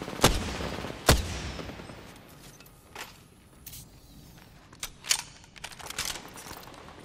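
Gunfire from the video game Apex Legends: two sharp, loud shots open the passage, then scattered quieter bursts and reports follow at irregular intervals over a low background rumble.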